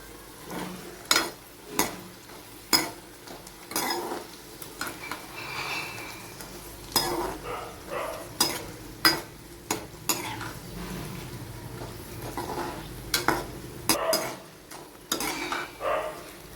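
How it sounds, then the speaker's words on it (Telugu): Buttermilk chillies (challa mirapakayalu) frying in hot oil, a constant soft sizzle broken by repeated sharp clanks of a spoon stirring against the pan. No voices are heard. "బాగా గోల్డెన్ కలర్ వచ్చేంత వరకు బాగా ఫ్రై చేసుకోవాలి వీటిని"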